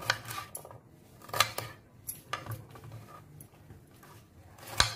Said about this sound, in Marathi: हे अशा प्रकारे सर्व भेंडी कापून घेऊया।